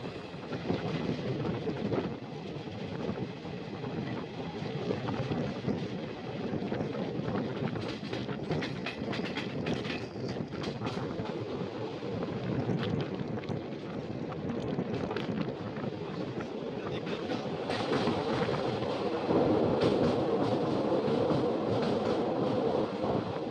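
A train labours up the Kasara Ghat incline with a banker locomotive pushing at the rear, giving a steady loud rumble and rolling wheel noise that holds throughout and swells slightly near the end.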